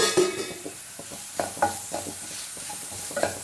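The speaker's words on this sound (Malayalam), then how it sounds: "നന്നായിട്ടൊന്ന് മിക്സ് ചെയ്ത് കൊടുക്കാം." Grated coconut being stirred into fried onions in a hot pan, a spoon scraping and turning the mix in soft irregular strokes over a faint steady sizzle.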